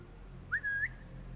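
A single short whistle from Assassin's Creed Mirage, a clear two-part tone that rises, holds steady and lifts again before stopping, alone over a low steady background hum.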